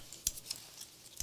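Scissors cutting paper during an art journaling session, a few faint, crisp snips spaced unevenly, close and otherwise quiet.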